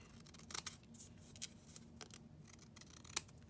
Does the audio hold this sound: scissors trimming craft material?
yes